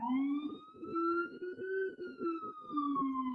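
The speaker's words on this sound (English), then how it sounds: "Sorry for the sirens in the neighborhood." A wailing siren in a Los Angeles neighborhood rises and falls continuously, fairly loud and close, with a steady warbling tone and no voices.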